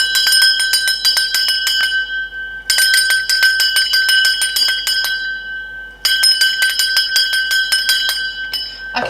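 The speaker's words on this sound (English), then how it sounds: "I'm going to ring this bell." A small handheld bell is rung in rapid, jangling bursts, three runs of quick bright clinks separated by short gaps, loud and close with no talking.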